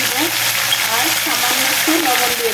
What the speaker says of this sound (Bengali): চুলার আঁচটা এখন বাড়াই দিব আর ফুলকপিটা ভেজে নিব